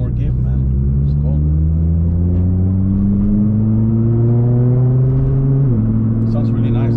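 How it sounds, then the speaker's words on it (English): A car engine revs up steadily from inside the vehicle, its exhaust note rising in pitch, briefly dipping as it shifts, then climbing again. "Sounds really nice, the exhaust."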